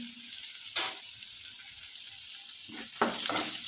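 Sliced onions hiss and sizzle in a hot pan with a few stirring scrapes, a steady close frying sound with no talk.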